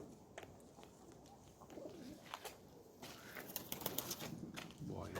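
Racing pigeons coo softly amid rustling and faint background noise, with scattered clicks and flutters and a voice briefly audible.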